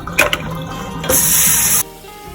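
Water runs and splashes as soft herbs like basil, cilantro and parsley are rinsed in a bowl at a sink, with a brief burst of handling followed by a steady, close rush of flowing water that cuts off abruptly.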